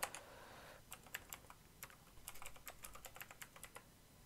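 Someone types on a computer keyboard while designing a thumbnail in Photoshop, a steady run of crisp, close keystrokes in uneven clusters with no other sound.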